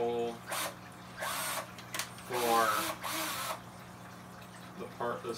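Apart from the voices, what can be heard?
power drill drilling a hole for iguana cage lock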